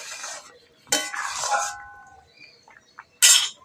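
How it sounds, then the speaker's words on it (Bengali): A metal lid comes off a cooking pot as bichuti leaves boil for a vegetarian dish, with sharp metallic clinks and a ringing scrape, then a last bright clatter. "এবার ঢাকাটা খুলে দেখবো।"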